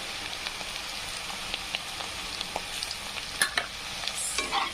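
Turmeric, red chili powder and garlic being stirred in hot oil in a pan for usal, a steady close sizzle with scattered spoon scrapes and pops throughout.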